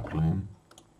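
A computer mouse clicks twice on an on-screen claim button, two faint, quick clicks close together that follow a louder low rumble and then fade into quiet.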